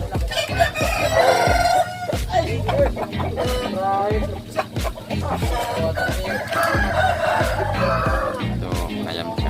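A Bangkok rooster crows amid a busy, noisy chicken market in Ketanggungan, Brebes, Central Java, with steady background chatter and clatter throughout.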